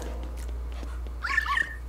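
A cat meows a few times inside the video game Luigi's Mansion 3, short mid-pitched cries close by with no talking over them, set against a steady low electrical hum.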